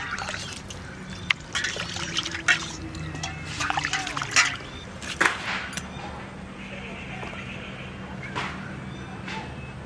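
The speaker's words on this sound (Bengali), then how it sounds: "প্রথমে মাছটা ধুয়ে নেব, তারপরে পরে আবার একটু জল দিয়ে ধুয়ে নেব" Hilsa fish is washed with water in a village-style kitchen: soft trickling, dribbling and light splashes come and go up close, with small handling knocks.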